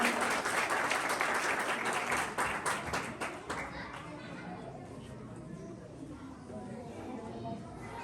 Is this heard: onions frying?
no